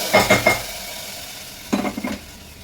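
Spinach tempered in a pan gets stirred against the metal: three quick scraping clatters, a pause with faint sizzling, then another cluster of stirring knocks close by.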